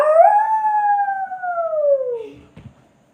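Human voice imitating a wolf howling: one long, loud, sustained howl sliding slowly downward in pitch and fading out, followed by a soft thump, with no other talk.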